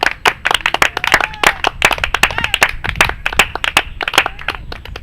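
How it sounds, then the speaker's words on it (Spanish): A congregation claps together, a dense, steady patter of many hands at close range, loud and continuous throughout. "Un aplauso a nuestro pastor Jesucristo"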